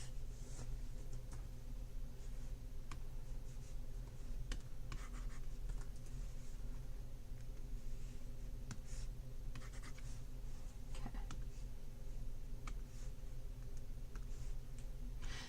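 A stylus strokes across a drawing tablet while line work for an insect illustration is refined, giving soft, steady scratchy scrapes with faint clicks over a constant low background hum, no talking.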